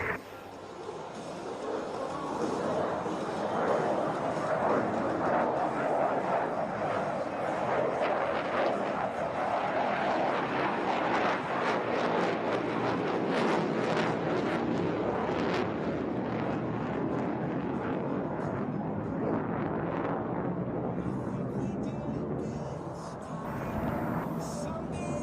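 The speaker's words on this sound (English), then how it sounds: "We're going to have a couple of aircraft taking off now that are going to go out and hold to come back and fly their routines" Propeller airplane taking off at the Hill Air Show, a loud sustained engine roar and rumble that builds and holds, then fades slightly near the end, with a voice talking over it.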